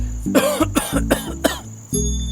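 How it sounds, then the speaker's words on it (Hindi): A run of about five harsh, closely spaced coughs, loud and near, with no talking; a short breathy pause follows at the end. "खांसी नहीं रुक रही है मेरी।"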